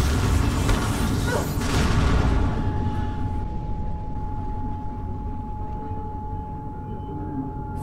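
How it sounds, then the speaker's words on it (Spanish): A loud, rumbling explosion in the game Mirror's Edge Catalyst booms at first, then fades into a lingering low roar with a steady electronic hum. "Menuda explosión."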